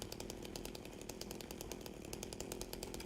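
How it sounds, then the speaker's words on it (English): In Silent Hill 2, a chainsaw weapon runs loud and close, its engine buzzing steadily with rapid, regular rattling pulses throughout. "I think singular enemies, I'm gonna use the chainsaw"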